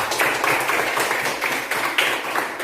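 Children in a classroom clap together for a classmate who has just named a folk tale. The clapping forms a dense, steady patter of many hands that stays loud and close for the whole short stretch, with no talking.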